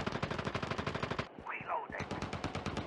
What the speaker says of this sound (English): I was shooting that guy from over here